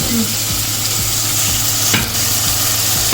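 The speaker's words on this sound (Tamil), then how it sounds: "தக்காளி நல்லா வதங்கட்டும்." Tomatoes sizzle and fry steadily in a pan, with a spoon stirring and scraping in a regular rhythm; close and loud, no talking.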